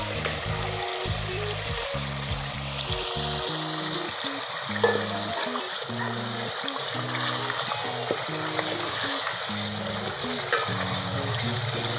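Meat goes into frying onion, ginger and garlic masala in a handi, setting off a loud, continuous sizzle with steady stirring and scraping throughout.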